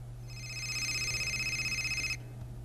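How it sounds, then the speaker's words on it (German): A shrill electronic telephone ring in the video game Fahrenheit trills continuously for about two seconds, then stops abruptly, fairly quiet over a low steady hum. "Lass einfach klingeln"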